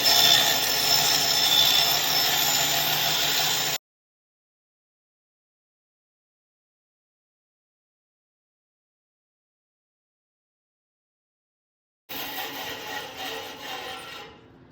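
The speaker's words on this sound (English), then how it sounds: "So I do think I'll take it to bandsaw here and see if I can do this curve here." A bandsaw cuts a curve in a kayak mold, whining loudly and steadily for several seconds, falling silent for a long gap, then returning with a shorter burst of the same buzzing cut.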